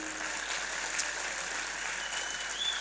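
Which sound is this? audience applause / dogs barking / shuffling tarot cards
audience applause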